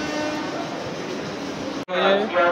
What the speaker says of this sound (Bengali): 8:35 পুরো পারফেক্ট টাইমে ট্রেনটা ছেড়ে দিল 7 নম্বর প্ল্যাটফর্ম থেকে